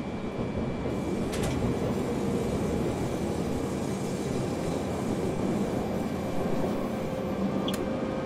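A BR 420 S-Bahn electric multiple unit in Train Simulator 2015 pulls away from the Munich Hauptbahnhof underground station with its doors still open, a steady broadband rolling and motor rumble filling the cab with faint high tones above.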